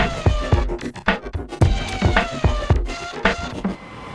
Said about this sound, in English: That is the sound of a Pod Point electric vehicle rapid recharger at Lidl